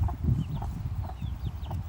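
Young backyard chickens on an island farm cluck in a steady run of short, soft calls, fairly close, with no one talking.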